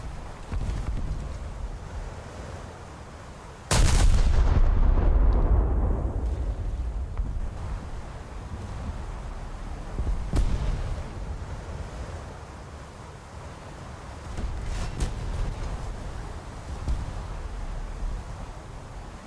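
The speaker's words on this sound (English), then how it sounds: "That salvo is looking decent." A Scharnhorst battleship fires a gun salvo in World of Warships, a sudden loud low boom that rolls into a long rumbling decay, followed later by fainter distant thuds over a steady wind-like ocean background.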